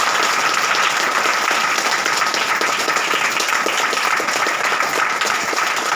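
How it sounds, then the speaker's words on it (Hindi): A church congregation applauds loudly and steadily, a dense, continuous wash of many hands clapping together at close range throughout, with no gaps. "प्रभु ईश्वर के लिए जोरदार तालियां बजा दे।"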